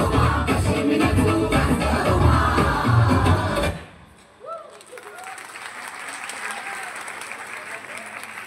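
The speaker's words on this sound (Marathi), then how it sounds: "एकदा जोरदार टाळ्या वाजवा" Audience at a women's forum Shravan festival event applauding loudly, dense clapping for several seconds that cuts off abruptly, followed by quieter room sounds.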